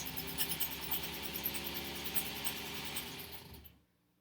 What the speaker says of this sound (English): This sewing machine sounds like a lawnmower.